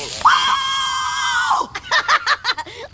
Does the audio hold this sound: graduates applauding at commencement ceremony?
no